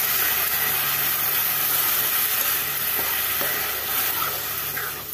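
Onion paste frying in a pan for kabuli chana masala, a steady close hiss and sizzle running without pause, with a faint low hum beneath and a couple of small clicks.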